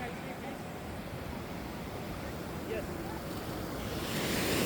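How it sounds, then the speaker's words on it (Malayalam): Sea waves wash in at Mahe beach as a soft, continuous surf hiss mixed with wind, swelling slightly louder near the end, with a faint voice in the background. "തിരമാല അങ്ങോട്ട് കൊണ്ടുപോകില്ലോ"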